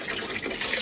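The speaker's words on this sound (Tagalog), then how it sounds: "Guys, tingnan nyo itong nabili kong battery operated na shower." Water spraying from a battery-operated portable shower, a brief steady hiss of flowing water, close and moderately loud, alone without talk.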